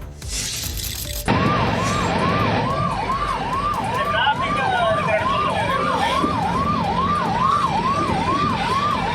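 Ambulance siren on an emergency run carrying a newborn from Trichy to Coimbatore, wailing loud and steady in a rising-falling cycle about once a second over road noise after a brief noisy start.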